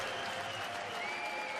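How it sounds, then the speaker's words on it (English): A darts crowd in Cologne at the 2019 German Darts Masters cheers and applauds in a steady, dense roar, heard from a distance and moderately quiet throughout. "listen to the crowd here in Cologne, because the German is making a game of this"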